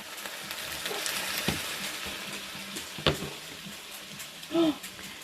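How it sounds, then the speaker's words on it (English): Chilli being stirred in a pan over heat, a steady close frying sizzle with scraping stir strokes and a couple of sharper clinks, a voice occasionally heard underneath. "That's it, give it a good stir."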